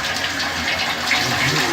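Hot water pouring steadily into a bird bath, a dense continuous splashing gush at close range with no break.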